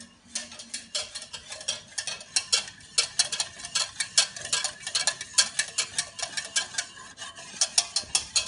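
A creamy pepper sauce is stirred in a pan for fillet steak, a spoon scraping and tapping against the metal in a quick steady rhythm of light clicks, close and fairly quiet.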